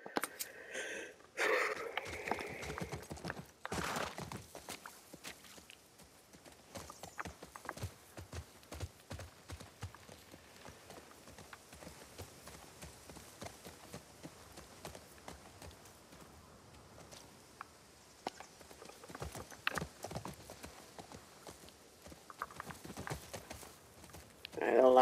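Horse hooves clip-clop steadily in The Last of Us Part II, a continuous walking rhythm lasting throughout at moderate level, with brief voice sounds at the start and end.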